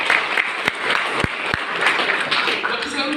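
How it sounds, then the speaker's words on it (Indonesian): A church congregation of the GKPS at Sipoldas claps together during a regent's visit, a dense steady patter of many hands with a voice speaking over it. "Tepuk tangan lagi."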